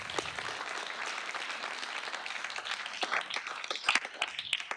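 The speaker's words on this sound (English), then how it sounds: "Just a round of applause for everyone who came out" An audience at a university entrepreneurship competition semi-final applauds the competitors, a steady wash of many hands clapping at moderate volume for the whole stretch, with a few sharper claps rising near the end.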